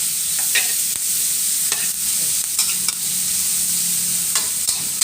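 Mussels and long beans stir-fry in a hot pan, a loud steady sizzle broken by scraping and clanking of a spatula against the metal, up close with no talking.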